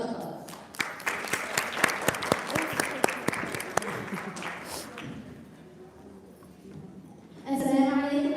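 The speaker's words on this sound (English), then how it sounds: "Let's welcome them with heartfelt du'as and a warm round of applause." A warm round of applause from a live panel audience welcomes the speakers, loud and dense with sharp individual claps, fading over several seconds before a voice starts speaking near the end.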